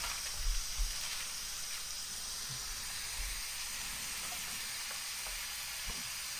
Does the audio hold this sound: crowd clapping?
no